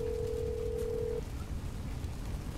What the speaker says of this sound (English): I can dial a number on the phone.